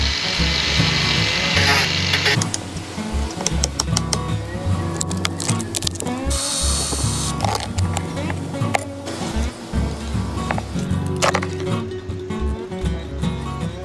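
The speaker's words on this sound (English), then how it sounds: "it means I've got to grind it out" A power grinder grinds out a glassed-in fibreglass backing plate for a boat stanchion. The harsh, loud grinding runs continuously and close by, rising and falling in pitch as the tool bites and eases off.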